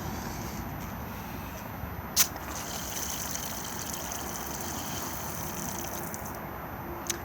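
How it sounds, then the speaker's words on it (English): Water pump of a 2018 Benimar Tessoro T494 motorhome pushing water through the external shower hose, a steady hissing gush with a brief click partway, outdoors and continuous. "As long as the water pump is on inside, as soon as you plug it in, it will go under pressure."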